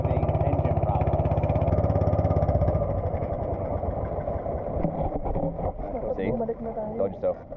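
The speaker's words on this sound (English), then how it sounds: "We appear to keep having engine problems" A boat engine in the Philippines chugs with a pulsing idle, then falters and turns rough and uneven, sputtering irregularly near the listener.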